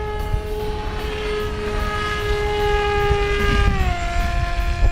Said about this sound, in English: nice prop plane and an EDF jet